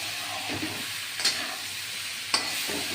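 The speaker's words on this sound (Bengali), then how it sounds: "জিরে আর আদার সঙ্গে পেঁয়াজ রসুনের সঙ্গে এটা কষাবো" Pumpkin being sautéed with prawn heads, cumin, ginger, onion and garlic in a pan, giving a steady close sizzle with stirring scrapes and two brief louder spatula knocks, no talking.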